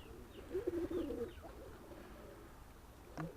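A blue bar Kazan x Old German Owl cross pigeon with a sooty look gives soft, low cooing close by, fading into quiet room noise with a faint chirp near the end; no talking.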